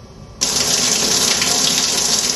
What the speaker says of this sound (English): we just got down the waterfall off the back of Gurion